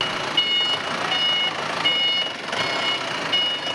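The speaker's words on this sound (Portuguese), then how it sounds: "O ritmo intenso da empilhadeira para carregar os caminhões de transporte não deixa mentir." A forklift loading transport trucks at a construction depot sounds its reversing alarm, a loud high beep repeating in a steady rhythm over a broad hiss of background noise.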